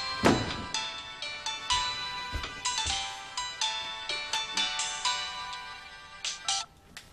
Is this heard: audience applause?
no